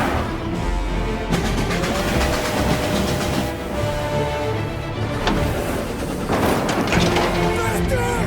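A train passing in a Mafia Definitive Edition cutscene: loud rolling rail rumble and clatter with rising surges, mixed with shouted voices and engine noise.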